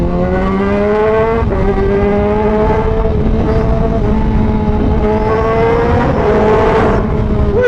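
Yamaha XSR 900 motorcycle fitted with a Competition Works exhaust, revving loudly and steadily with rising and falling engine pitch, close and continuous throughout with no talking.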